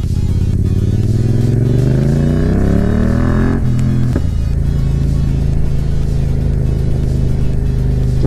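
Ford Mustang revving and accelerating past up close, engine pitch climbing in a loud rising sweep before a sharp shift and a deep steady rumble as it pulls away.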